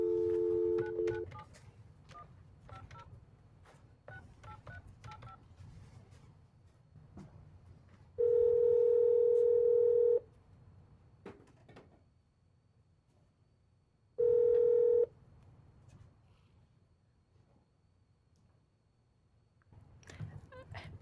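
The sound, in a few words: telephone dialing tones and dial tone, calling Steph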